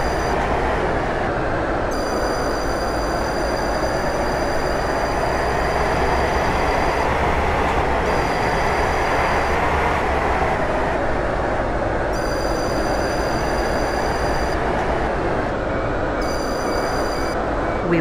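A Stepford Connect passenger train runs along the line in the Roblox game SCR, giving a steady loud rumble of wheels and motor with recurring high whining tones, continuous throughout.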